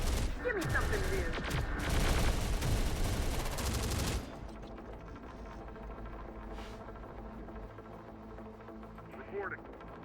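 Dense automatic gunfire and fusillade bursts from the Terminator: Dark Fate - Defiance video game fill the first four seconds loudly, then drop to a lower rumbling battle bed with scattered distant shots and brief voices.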